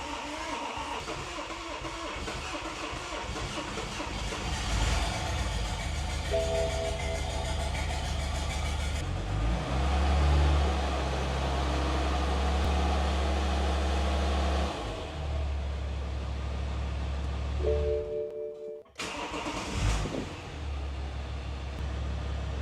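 A BMW F25 with the N57 diesel engine cranks, starts and runs after a timing chain job, settling into a steady low diesel rumble with a brief rev, a short cutout and a restart, close and continuous.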